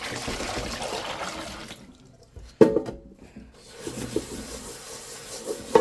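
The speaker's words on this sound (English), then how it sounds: "let's wash out the rice pot" Someone washes out a burnt rice pot, with running water and scrubbing, a brief quiet pause, a sharp clunk, then more rinsing and rubbing close by.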